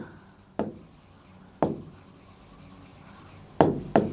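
Chalk or marker writing on a classroom board: short scratchy strokes near and fairly loud, separated by pauses and sharp taps as the tip touches the surface, with no talk.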